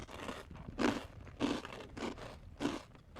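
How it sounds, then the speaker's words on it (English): Crunchy chips with cottage cheese dip being bitten and chewed close to the microphones, four or five loud, distinct crunches spaced about half a second apart, with no talking. "We're gonna be crunching in our mics."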